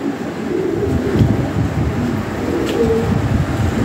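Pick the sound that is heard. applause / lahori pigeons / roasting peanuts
lahori pigeons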